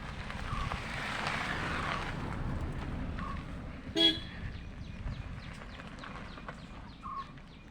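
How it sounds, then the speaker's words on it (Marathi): A vehicle pulls up outdoors in a village with a broad rumbling approach, then a single short horn toot sounds midway before the engine noise settles and fades. "ही बघा आमची गाडी आली."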